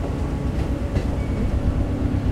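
A passenger train running from Agartala to Udaipur rumbles steadily along its tracks, a continuous close rattle and clatter of wheels and carriages with no voices.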